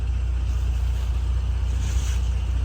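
Swollen Town Creek in Green Ridge State Forest, Maryland, pours over a flooded road crossing as a constant, close, full roar of rushing water with no talking.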